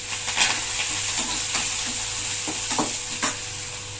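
Onion and garlic fry in hot oil with mustard seeds and dal, a steady crackling sizzle broken by the scrape and clink of a spatula stirring the pan, close up and with no talking.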